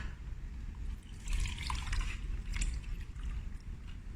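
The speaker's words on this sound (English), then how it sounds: "Then we're going to put it through a sieve over here." Purple cabbage water is poured through a sieve, giving a steady soft splashing trickle of liquid for several seconds with no voices.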